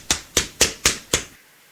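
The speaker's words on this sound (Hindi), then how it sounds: "ताली काहे बजा रहे हो?" Hands clap five times at an even, quick pace on a school stage during a courtroom comedy skit, each clap sharp, close and distinct, with a short decay before silence.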